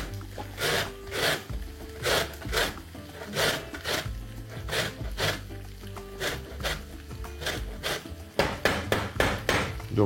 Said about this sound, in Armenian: կես նարնջի կլեպով, քերում ենք մանր անցքերով